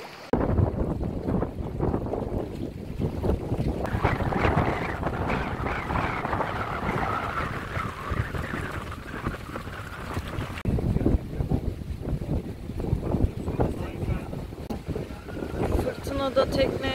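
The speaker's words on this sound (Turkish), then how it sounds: "Fırtınada tekne" Strong wind buffets the microphone over a sailboat's creaks and splashing water as it knocks against a restaurant jetty in a storm at Okluk, Turkey, with a voice talking faintly under the steady roar.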